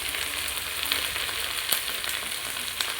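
Okra and green chillies fry in a hot pan, giving a steady, close sizzle with small crackles and pops throughout.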